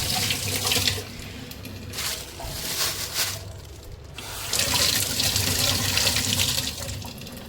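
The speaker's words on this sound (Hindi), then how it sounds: "तो इसमें डाल देती हूँ पानी भर के" Tap water runs steadily into a kitchen sink to fill a bowl and soak chicken, a continuous splashing gush that swells and dips as the flow shifts, with no talk.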